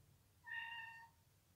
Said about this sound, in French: c'est mon chat qui m'appelle